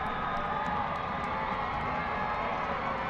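Stadium crowd roaring steadily after a midfielder's goal in an FC Tucson versus Tormenta FC soccer match, a dense, continuous wash of far-off cheering with faint shouts on top.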